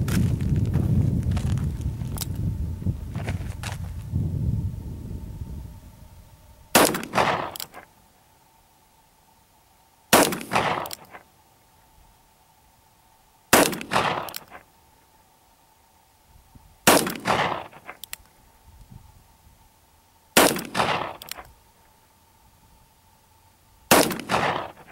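A .38 Special revolver firing 158 grain cast semi-wadcutter bullets over a light load of Unique powder, sounding as six sharp, loud outdoor shots spaced about three seconds apart, each ringing briefly after handling noise at the start.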